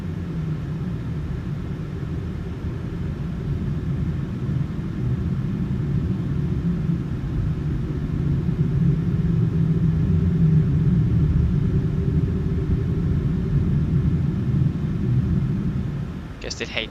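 An airliner rolls for takeoff in Microsoft Flight Simulator 2020, its engines a steady, loud, low rumble and roar that holds evenly for many seconds. A brief click sounds near the end.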